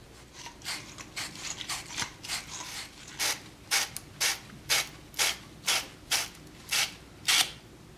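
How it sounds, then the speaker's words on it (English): Copper pipe being sanded with abrasive material for brazing, heard as a regular series of short, crisp scraping strokes, about a dozen in steady rhythm, close and fairly quiet with no talk. "we can sand down the outside of our pipes and the inside of our fittings with the abrasive material of your choice"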